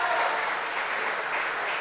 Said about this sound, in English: I was just waiting for the clap to go down